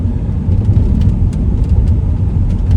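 A car driving along, its steady low engine drone and road rumble loud and close from inside the cabin, with a few faint ticks above, no voices.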